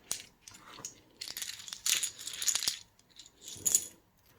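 Small keycaps from an album unboxing are handled, clicking and clinking lightly against one another in scattered bursts with short pauses, close and quiet.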